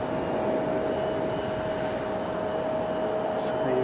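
Jin Air airliner arriving at Fukuoka Airport, a steady broadband engine roar that holds evenly throughout with a faint constant whine, heard from a distance with no voices.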